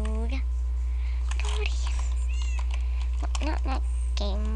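Cat meowing in the Minecraft video game, several short mewing calls spread across the span over a steady low hum, with a person speaking quietly in between.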